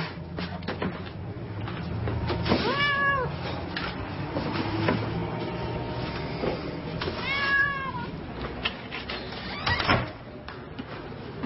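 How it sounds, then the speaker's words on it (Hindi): A cat meows twice in an indoor setting, one call near the start and another about midway, with faint household rustling and bumps between them and no talk. "इधर आओ शैतान बिल्ली।"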